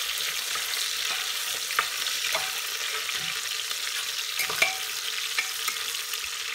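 Onions sizzling and frying in a pan for Tamil Nadu style pongal, a constant dense hiss with occasional stirring scrapes, close and without speech.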